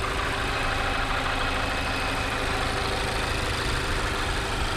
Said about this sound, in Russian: Моторчик работает тихо.